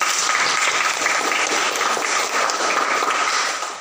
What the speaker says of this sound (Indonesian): Baik, tepuk tangan buat si Kafir.